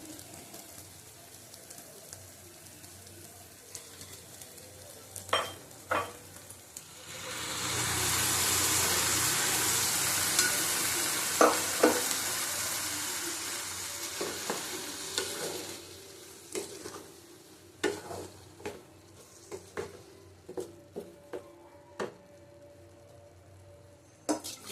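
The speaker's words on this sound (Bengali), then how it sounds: "ডালটা দিয়ে দেবো এবার।" Dal is poured into a pan of egg chicken tadka, bringing a loud, sustained sizzle and frying hiss that swells and then fades, with scraping stir strokes and spoon knocks against the pan running throughout.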